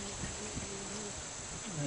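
A dense, steady hum of many honey bees buzzing close up at an open hive, continuous with faint low thumps underneath.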